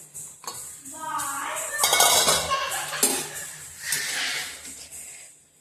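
A pot lid comes off a pot of vegetable stew with potatoes cooking inside, giving a few close metallic clinks and rattles followed by a soft bubbling hiss.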